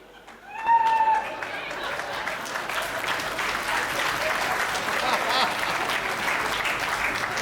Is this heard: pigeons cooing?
no